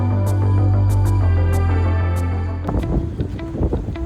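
Cold wind blowing outdoors on a near-freezing day, a loud low rumbling buffet across the microphone that holds steady, then drops and turns gusty and uneven toward the end.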